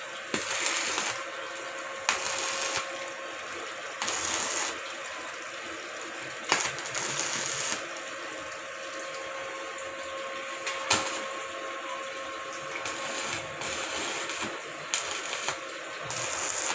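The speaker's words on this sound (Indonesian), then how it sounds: "busur apinya sangat tinggi ini" A Ryu 450-watt welding machine arc welds at 120 amps with a 3.2 mm rod, producing a steady close crackling hiss broken by periodic louder sputtering bursts, with no talking.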